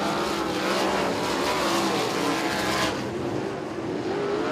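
USAC sprint cars race at Kokomo Speedway, engines roaring loud and steady as the pack runs past, the sound easing slightly near the end.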